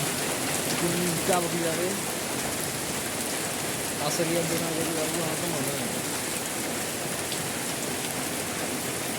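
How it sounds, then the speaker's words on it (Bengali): Heavy rain pours down steadily in a dense, constant hiss that fills the whole scene, while a person speaks close by over the downpour. "দেখুন বৃষ্টির অবস্থা কি মধ্যে বৃষ্টি হচ্ছে"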